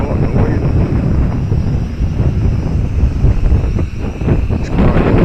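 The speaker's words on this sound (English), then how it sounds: "See, that's right, the wind." Strong wind buffets the microphone near a 502E, a loud continuous rumbling roar with gusty swells throughout, no speech.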